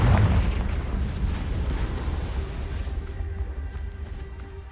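The Confringo blasting spell explodes in Hogwarts Legacy with a heavy booming rumble that fades gradually over several seconds as a faint steady tone lingers.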